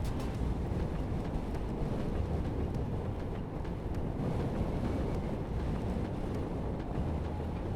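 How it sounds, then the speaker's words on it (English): Steady wind buffets a camera microphone outdoors near an electric motorcycle, a loud continuous low rumble without a break. "So we're getting some wind now"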